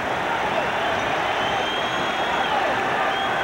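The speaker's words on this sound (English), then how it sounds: "The crowd calling for some defense now." A football stadium crowd at a 1983 Falcons–Saints game roars steadily, a dense, continuous wash of cheering and noise calling for defense, loud and unbroken throughout.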